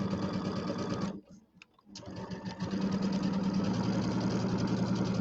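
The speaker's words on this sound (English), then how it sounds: "Doing my 1/4 inch seam." A sewing machine stitches a quarter-inch seam on a large quilt assembly, a loud steady mechanical whir that stops briefly near the start and then resumes at a constant pace.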